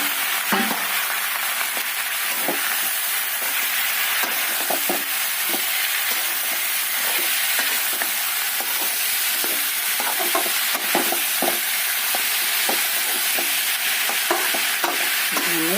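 Ivy gourd sizzles in a pan with browned onions and garlic, a steady bright frying hiss with scattered crackles and soft stirring scrapes, close and continuous without talk.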